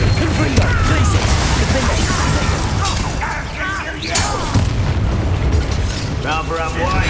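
A Confringo fire spell bursts with booming blasts in the Hogwarts Legacy video game, with loud rumbling explosions and chaotic combat noise filling the scene while voices call out over it.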